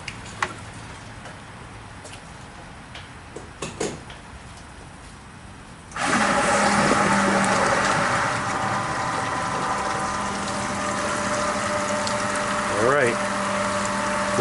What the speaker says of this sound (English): It's getting pumped through just the heater core.